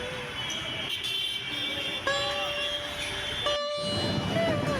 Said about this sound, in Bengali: এখন এই কলকাতা শহরে ট্রাম একটা দর্শনীয় জিনিস, দর্শনীয় পরিবহন বলা যায়।